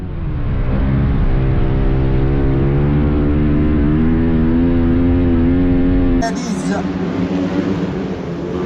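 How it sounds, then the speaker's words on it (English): Flat track racing motorcycle at a FIM World Championship round in France, engine held loud and steady on corner entry with the throttle never fully closed, a rising harmonic whine for about six seconds before dropping away, with commentary over it. "You can listen to the throttle on the entry of the next corner."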